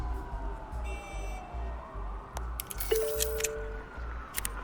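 Police car sirens wail in Batman: The Telltale Series, with tones sliding up and down at a moderate distance over a low steady rumble and some scattered metallic clicks.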